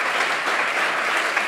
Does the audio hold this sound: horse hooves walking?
no